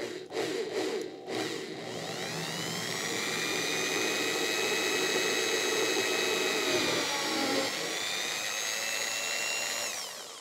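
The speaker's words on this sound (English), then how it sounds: "This drill is bad and not marked." A power drill bores a hole during a T-shirt cannon build. After a few brief bursts, a loud, steady, whining motor tone holds, dips briefly, then carries on before the drill winds down.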